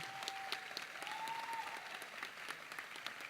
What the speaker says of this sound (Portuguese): Acho que uma salva de palmas a mais para todos eles.